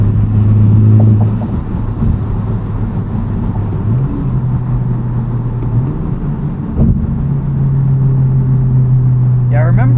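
Inside a 2023 Honda Civic Type R FK8 with a muffler-deleted MRT Street Race axle-back exhaust, the engine hums low and steady at about 75 mph on a slight highway uphill, its tone rising and dipping with throttle as someone talks over it.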